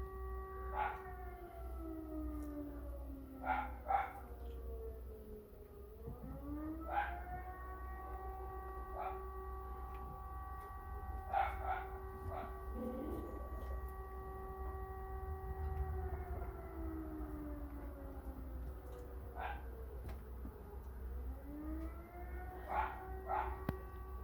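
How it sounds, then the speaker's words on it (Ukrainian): A distant air-raid siren in Ukraine wails steadily, its tone rising and falling in long slow sweeps, with dogs barking intermittently nearby over a low hum. "А сирена не змовкає."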